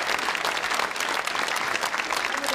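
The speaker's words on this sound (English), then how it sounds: "that deserves a round of applause" A television studio audience on The Late Late Show in 1984 breaks into applause, a thick continuous wash of many hands clapping together, fairly loud and sustained, with no speech on top.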